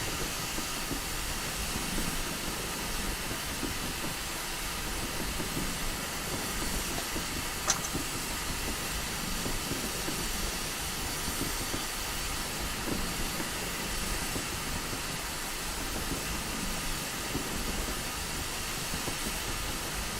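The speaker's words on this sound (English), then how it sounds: "See our train driving off into the distance." A GWR 8000 steam locomotive in Train Simulator 2021 on the West Somerset Railway pulls away, a steady hiss and low rumble holding even throughout with no voices and one brief faint click midway.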